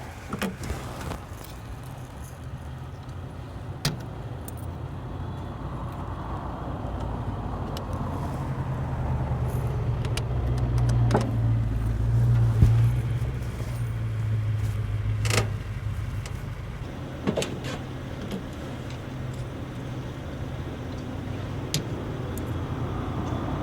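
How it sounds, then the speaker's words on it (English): Cars passing outside, heard from inside a car, as muffled low road rumble that swells and fades, with occasional small clicks and rattles in the cabin. "concentrate on all the ambient sound, the car sounds around Jake and how loud they are on certain microphone as opposed to the other"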